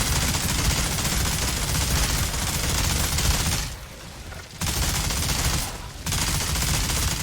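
Rapid continuous minigun fire in the video game Outriders, a dense loud roar of gunfire with two brief pauses before it resumes, no talking.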